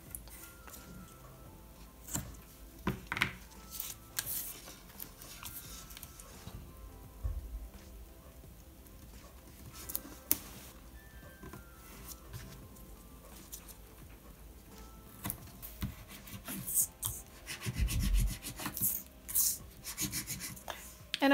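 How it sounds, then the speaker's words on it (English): A glue stick is rubbed onto a small paper tab, giving soft dry scraping strokes in irregular bursts, close and quiet, with pauses between passes. "I'm going to put some glue stick in the middle"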